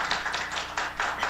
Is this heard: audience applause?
yes